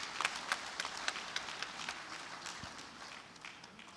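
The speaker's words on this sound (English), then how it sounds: "Coren deserves a huge round of applause from the participants" Applause from participants at an engineering assembly, a quiet, steady spatter of many hands clapping at a distance, sounding thin and fairly faint throughout, with no talk over it.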